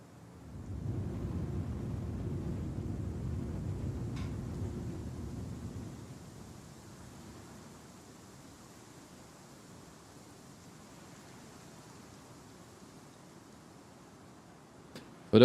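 A storm rumbles in the Star Citizen space game at sunset, a heavy low roar for several seconds that then fades to a faint, steady ambient wash.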